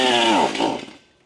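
A STIHL MS271 chainsaw fires up with a loud, close engine roar that holds briefly, then sputters and fades out within about a second as it dies.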